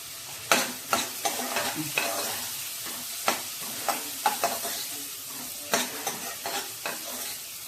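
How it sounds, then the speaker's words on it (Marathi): Chopped onion with turmeric sautéing in a pan, a steady sizzle broken by repeated sharp scraping stirs of a spatula, close and fairly loud with no talking. "चांगला कांदा आपण वाफवून घेऊया."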